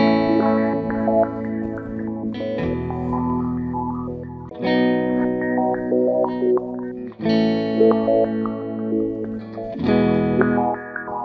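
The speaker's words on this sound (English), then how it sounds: "Phase echo." A guitar runs through the phase echo delay on a Line 6 POD Go, sustained chords repeating every couple of seconds, each trailed by swirling, phasing echoes, loud and alone.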